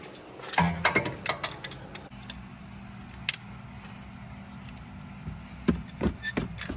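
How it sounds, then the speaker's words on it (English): A C-clamp is twisted to push an old brake pad back into the caliper during a rotor and pad job on an E46 M3, giving close, irregular metallic creaks and ratcheting ticks over a low background hum. "we're going to use a C-clamp just to compress it"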